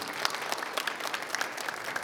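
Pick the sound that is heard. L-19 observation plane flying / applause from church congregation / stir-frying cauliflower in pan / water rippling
applause from church congregation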